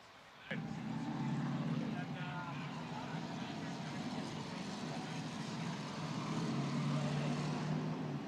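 Robby Gordon's stadium super truck drives on two wheels around a Long Beach street course, its engine droning steadily at a distance from the start to the end, with a commentator talking over it.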